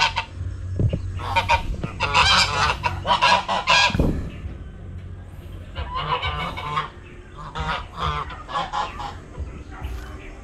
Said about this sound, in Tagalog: Mga gansa pa.